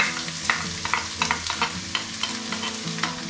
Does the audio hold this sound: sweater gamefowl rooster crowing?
no